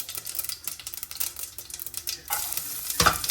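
Garlic frying in oil in a pan after mustard seeds, a steady crackling sizzle with scraping stir strokes, growing louder and busier toward the end.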